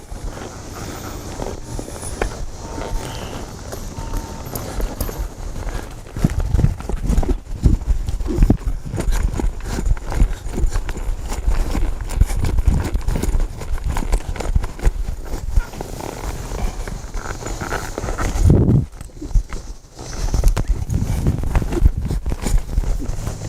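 A cutting horse works cattle, its hooves thudding in a steady, close clip-clop across the ground amid a continuous outdoor rumble, with no speech.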